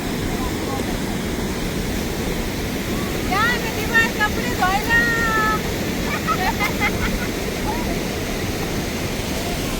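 River water rushes as a broad, steady wash at a village riverside, with faint voices and a few brief high calls in the background over the constant flow.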